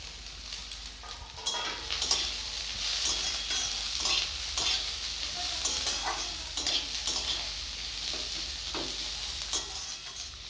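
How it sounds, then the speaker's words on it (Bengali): Cabbage and peas stir-fry in a pan with steady, close sizzling and repeated scraping of a spatula against metal, alone without voices. "এবারে দিয়ে দিব আমি বাঁধাকপি আর মটরশুঁটি"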